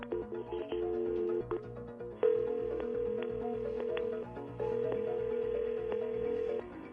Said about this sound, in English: we're going to dial them both up right now